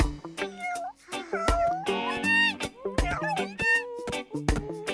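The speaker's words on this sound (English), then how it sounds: "And little black cat." A little black cartoon cat from the Maisy Mouse children's cartoon gives several short, sliding meows among the cartoon's background music and effects.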